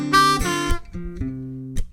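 Blues harmonica plays a short lick over the five chord in bar nine, a few bent, reedy notes in quick succession, close and clear with no talk.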